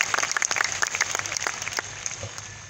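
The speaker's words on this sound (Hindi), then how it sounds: "शायद आप ताली बजा रहे दोस्तों ताली काफी कम है" An audience at a company anniversary event in Patna claps, steady scattered applause that is moderately loud and gradually thins out toward the end.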